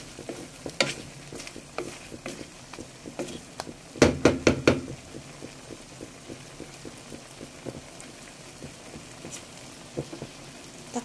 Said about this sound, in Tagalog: Haluin lang natin muna para maghalo ng mabuti yung seasoning.